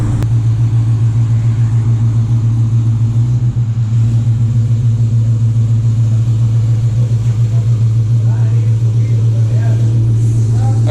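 A cammed Dodge Charger R/T engine drones loudly and steadily on a dyno at a constant deep hum. A slight dip partway through breaks the continuous, close mechanical roar.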